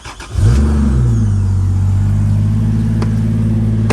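A turbocharged Lexus LX450 engine, with its O2 sensors disconnected, turns over and settles into a steady, low idle hum, close and continuous.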